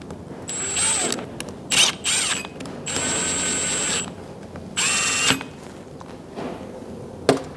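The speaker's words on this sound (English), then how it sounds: "we're just gonna finger tight put these bolts in here" Whirring bursts from a power tool or ratchet driving bolts into a cam phaser front plate during a Mercedes C63 engine rebuild, several separate runs of a few seconds each with metallic clicks between them.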